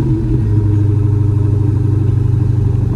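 A 2020 widebody Dodge Challenger Hellcat with stock 5-inch exhaust idling after starting, a steady deep low rumble held close and loud throughout.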